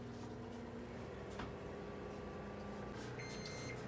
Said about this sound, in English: we need to take these paper plates and we need to put them in the microwave for 45 seconds